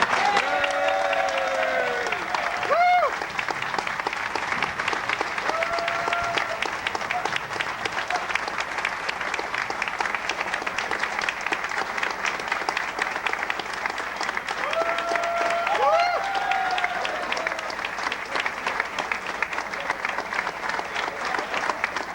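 A convention audience of Log Cabin Republicans in San Diego in 1996 gives a long, sustained round of applause, dense and even, with faint voices and cheers rising briefly within the crowd.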